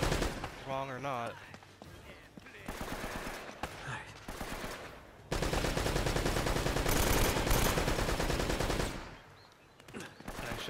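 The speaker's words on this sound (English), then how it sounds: "the gunshots for me are so freaking loud" Rapid bursts of automatic gunfire in the video game Uncharted: Drake's Fortune, loud and close, broken by short pauses, with a person talking in between the bursts.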